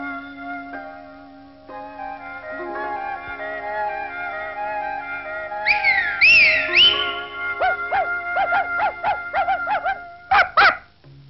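A person whistles to call sheep in a cartoon scene: rising and falling glides, then a string of short, bright, repeated whistle bursts, loud and close over a soft tonal musical background.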